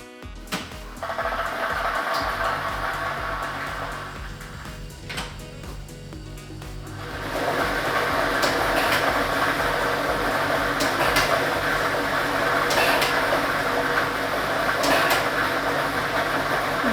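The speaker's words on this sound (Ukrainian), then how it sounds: "І ми вмикаємо лототрон." A lottery drawing machine (lototron B, loaded with ball set 4) runs at a Ukrainian state lottery draw for Loto Maksyma. A steady whooshing roar carries the rattle and clatter of tumbling balls, starting softer and swelling louder after a few seconds.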